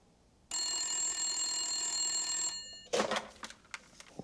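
A telephone bell rings alone in a quiet room with one continuous bright ring lasting about two seconds, followed by soft shuffling and handling noises as it is picked up.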